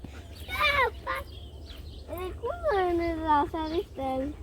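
Several nasal quacks and honks from ducks come in short bursts, close and fairly loud, with quiet gaps between them.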